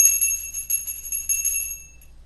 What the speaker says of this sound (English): I'm going to ring the bell to clear the energy.